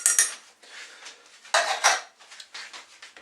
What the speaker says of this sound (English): I'm going to strain them out in the colander